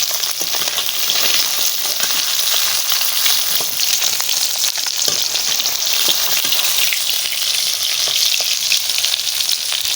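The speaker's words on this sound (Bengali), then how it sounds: "এরকম করে ভাজা করে নেবো মাছ" Steady, loud sizzling of tilapia frying in hot oil, a dense crackling hiss that continues without pause and without voices.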